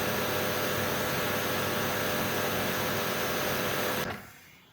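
A Karcher K7 pressure washer runs in boost mode, giving a loud, steady broadband hiss and motor drone that holds constant for about four seconds and then cuts off abruptly into near silence.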